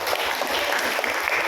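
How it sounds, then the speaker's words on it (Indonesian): A church congregation claps for God after a sermon, continuous dense applause filling the room at a steady level. "Bisa tepuk tangan buat Tuhan."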